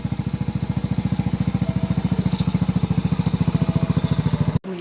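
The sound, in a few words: motorcycle engine warming up before leaving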